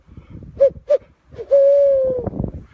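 A man imitates a barred owl with his voice: two short, quick hoots, then a long, drawn-out hooting call that trails down at the end, loud and close.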